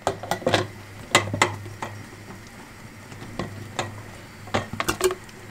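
Glass jars and a metal spoon clink and tap sharply and irregularly as hot fig preserve is ladled into them, a steady low hum running underneath.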